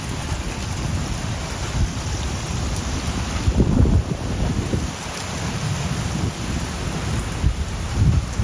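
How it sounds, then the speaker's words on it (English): Summer thunderstorm at Indian Wells with heavy rain pouring steadily, gusting wind buffeting the microphone and low thunder rumbles swelling partway through, loud and continuous with no talk. "Thunderstorm,"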